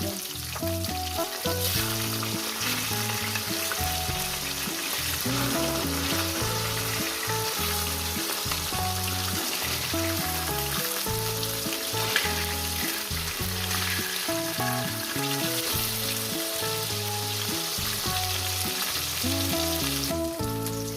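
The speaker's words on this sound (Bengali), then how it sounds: "মাছটা ভাজা হয়ে গেছে দেখছেন একটু কড়া করে ভেজেছি" Steady, dense sizzling of rohu fish frying in hot oil, continuous and close, with faint low thumps underneath throughout.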